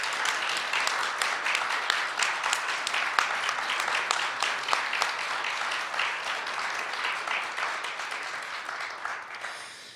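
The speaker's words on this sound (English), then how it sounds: "Let's give Ray another big round of applause." Audience applause at a gallery opening, a steady patter of many hands clapping at moderate distance, fairly soft, tapering slightly toward the end.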